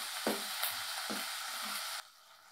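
Tomatoes and green chilies frying in hot oil, giving a steady close sizzle with a few stirring scrapes, until the hiss drops off sharply near the end.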